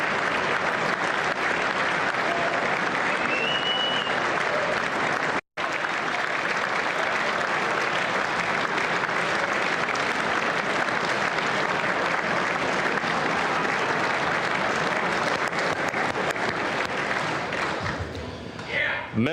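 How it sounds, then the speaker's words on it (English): Sustained crowd applause in the chamber during a State of the Union address, loud and dense with a short cut partway through, fading at the end with voices faintly beneath. "Some are even clapping."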